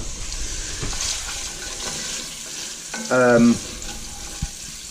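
Pancetta frying in butter in a pan, a steady crackling sizzle throughout with a brief voiced sound and a sharp clink partway through.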